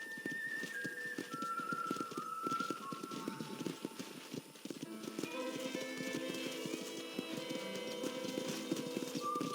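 Steady clip-clop of horse hooves with a rhythmic, close beat, accompanied by light melodic music and occasional chimes, from the video game Red Dead Redemption.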